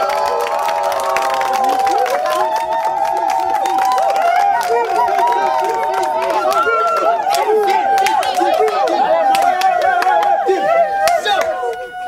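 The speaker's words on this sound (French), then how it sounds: "On applaudit pour elle." Crowd applauding and cheering for a woman in a Cameroonian film scene, a loud, steady wash of claps and voices with chatter mixed in throughout.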